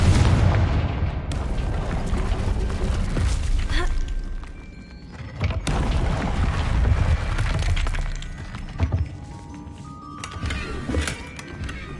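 Confringo blasting spell explosions in Hogwarts Legacy: loud booming blasts with crackling, shattering debris, several bursts in sequence over a dense, rumbling game soundscape.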